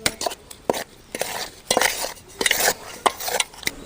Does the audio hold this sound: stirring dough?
yes